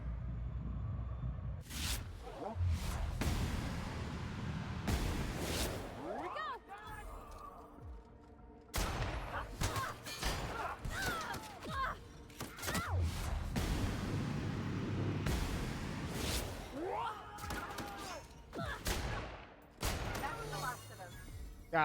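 Gunfire in The Outer Worlds video game, with several loud, sharp bursts of shots separated by quieter stretches, mixed with game sounds and a voice talking in between.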